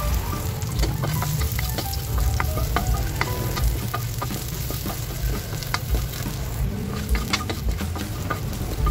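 Garlic sizzling in hot oil in a pan, a dense continuous crackle and pop with scattered sharp spits throughout, close and steady, without any talking.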